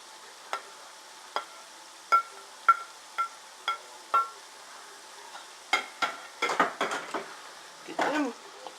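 Onions and peppers tumble into hot oil in a pan. The scattered clinks and scrapes come first, then a burst of sizzling and stirring rises toward the end. It sounds close and fairly quiet, with no talk.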